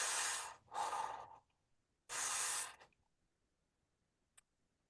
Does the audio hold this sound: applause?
no